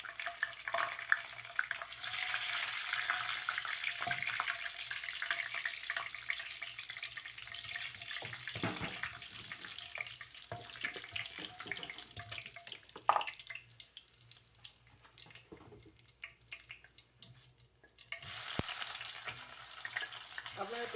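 Whole spices frying in oil in a pan, a steady soft sizzle with occasional stirring scrapes and clinks, fading quieter midway before the sizzle returns strongly near the end, no talking.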